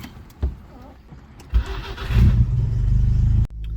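A vehicle engine close by cranks and catches after a couple of faint knocks, then settles into a loud, steady low rumble that cuts off abruptly near the end.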